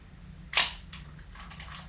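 An overhauled film camera with a new shutter fires once, a sharp, well-dampened click up close, followed by a few softer mechanical clicks and faint handling noise.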